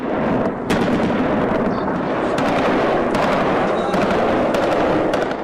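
Heavy gunfire and explosions in an upscale Kabul neighborhood at night, a continuous dense crackle of shots with repeated sharper blasts, loud and sustained.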